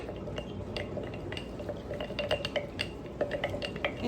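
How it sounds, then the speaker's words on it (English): A utensil stirs sourdough starter in a container, scraping and clinking against the sides in a steady, close rhythm with soft wet sloshing underneath. "let's give this a good stir."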